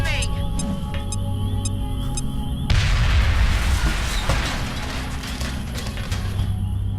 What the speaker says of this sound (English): See how this grenade does.